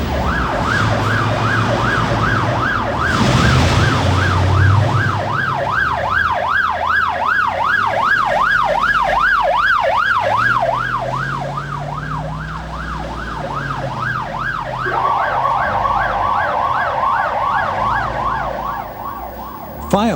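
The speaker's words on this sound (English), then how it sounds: "With their sirens blaring and blue lights flashing, they waste no time on their way to the scene" Several fire engine sirens blare together in a loud, rapidly wailing chorus that rises and falls continuously, with road traffic rumbling underneath and the pitch pattern shifting partway through as the vehicles pass.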